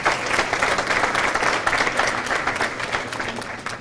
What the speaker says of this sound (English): A nice round of applause for our second team,